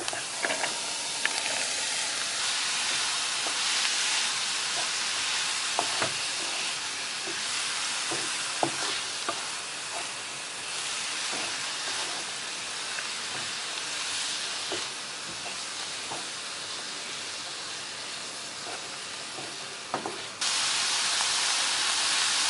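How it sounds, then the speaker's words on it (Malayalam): Snake gourd sautéing in a pan with onion and green chilli for a Kerala thoran, giving a steady close sizzle and hiss with occasional scraping stir clicks and no talk. "നമുക്കിതിലേക്ക് പടവലങ്ങ ചേർത്ത് വഴറ്റാം."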